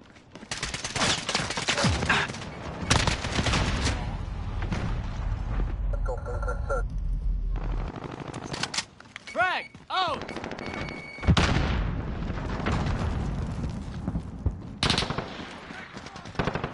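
Heavy automatic fire in a Call of Duty battle, with long loud bursts and a few short pauses, mixed with game voice callouts and electronic effects.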